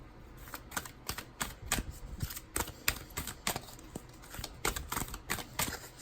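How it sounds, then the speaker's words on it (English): Rapid crisp flicks and slaps of tarot cards being shuffled, a steady run of papery taps up close with no talking. "I'm just gonna shuffle."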